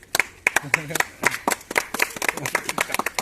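A small group claps in quick, uneven bursts of sharp hand claps, close and fairly loud, while a voice calls out rhythmically over the clapping.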